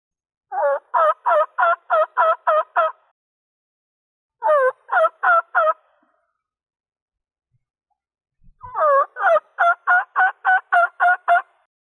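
Turkey mouth call, a horseshoe-shaped reed-and-membrane diaphragm held in the roof of the mouth, imitating a turkey in three separate bursts of rapid, evenly spaced yelping notes, loud and close with silence between bursts.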